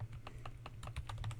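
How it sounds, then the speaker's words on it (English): Rapid typing on a computer keyboard, a quick run of light, close key clicks over a low steady hum, with no voices. "I can type."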